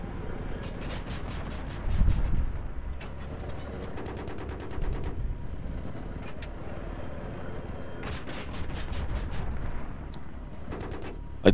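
Rapid gunfire bursts from a Battlefield 3 co-op mission, 'Fire from the Sky', crackle repeatedly over a steady low battle rumble, with louder volleys arriving at intervals.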